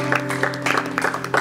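A church congregation claps together, a dense run of hand claps over a sustained low organ or keyboard tone, close and fairly loud.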